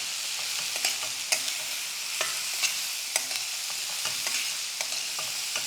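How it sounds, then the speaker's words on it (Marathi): Chopped capsicum sautéing with salt in a pan for besan zunka, an even low sizzle broken by frequent sharp spatula scrapes and clinks against the pan, close and without speech. "आता यामध्ये आपल्याला घालायची आहे कापून घेतलेली शिमला मिरची चवीपुरतं मीठ घालायचं आणि याला दोन मिनटासाठी परतून घ्यायचं"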